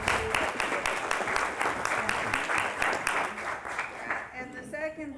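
Applause from a county commission meeting audience, a dense wash of many hands clapping steadily for about four seconds, then tapering off as a voice starts speaking.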